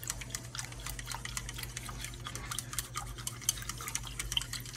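Milk being stirred in an Instant Pot for homemade yogurt, a steady soft scraping and swishing of a utensil against the pot, close up and quiet, over a low constant hum.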